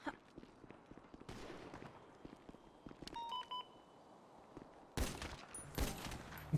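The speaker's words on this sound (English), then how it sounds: "we have shots fired at Burger Shot" Gunshots ring out in a GTA V NoPixel roleplay street scene at Burger Shot, a few sharp cracks among beeps and ambient game noise, with a louder burst of shots near the end.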